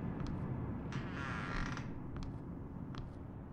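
A door creaking open in the video game The Housekeeper, a faint drawn-out creak rising over a steady low background hum, with a few light clicks around it and no talking.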